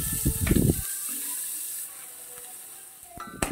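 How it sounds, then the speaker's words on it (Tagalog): Pork pieces sizzle as their fat renders in a hot pan for pakbet, a loud crackling burst at first that settles into a steady, softer hiss, with a few sharp pops near the end. "palalabasin natin yung mantika ng ating pork"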